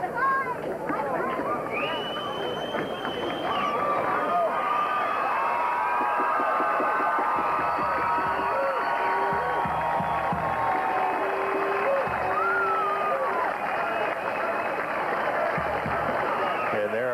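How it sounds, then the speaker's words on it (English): Conway Springs Cardinals fans cheering at a 1998 state championship game, a steady roar of crowd noise and applause with babble throughout and scattered louder shouts rising and falling. "Conway faithful cheering on their Cardinals"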